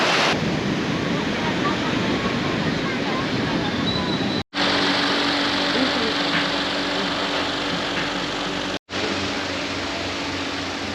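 Ocean surf at Tulum Beach, Mexico, rolls in a steady, loud wash, with wind buffeting the microphone throughout and two brief dropouts breaking the sound.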